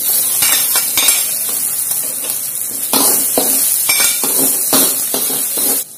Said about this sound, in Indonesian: Tumis sampai berbau harum